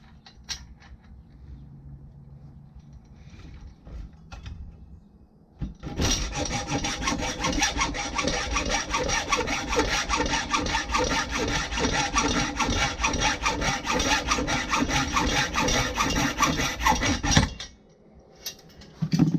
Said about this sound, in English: Now I'll cut that off with a hacksaw.